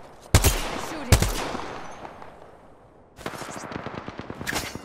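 Gunfire in Apex Legends: two sharp, loud single shots early on, a lull, then a rapid automatic burst of closely spaced shots with no talk over it.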